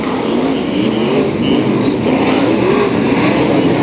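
Race cars roar together at the start of a heat race at Santa Maria Speedway, a dense, loud, continuous engine drone with rising pitch as the field accelerates off the green flag.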